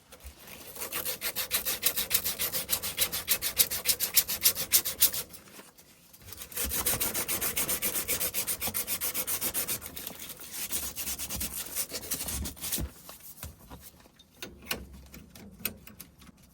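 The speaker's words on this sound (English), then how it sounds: "Let's sand it first" An aluminum refrigerant lineset on a Lennox system is sanded before brazing, giving a steady, close, raspy scrubbing in long continuous strokes. A brief pause near the middle breaks the sound before the sanding resumes.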